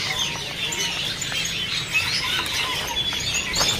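Busy bird market chatter with several birds, including zebra doves, calling and cooing over a steady noisy background, with no single call standing out clearly.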